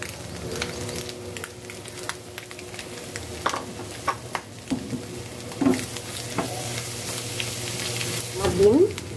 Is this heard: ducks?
no